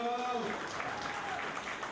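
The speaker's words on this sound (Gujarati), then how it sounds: "તાળીઓ" Applause from an audience at a 2015 Chaudhari Samaj community gathering, following a prayer to Arbuda Mata: a dense, steady patter of clapping that fills the whole moment, with a voice faintly audible at the start.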